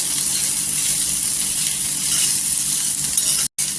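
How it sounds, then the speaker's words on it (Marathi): Dried coconut for a spicy egg masala roasts on a hot griddle, giving a loud, steady sizzle close up with a brief dropout near the end and no talking. "आणि तव्यामध्ये छान असं भाजून घ्यायचं।"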